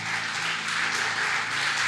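A church congregation claps hard and steadily at a Sunday service, a thick, even roar of applause with no pauses.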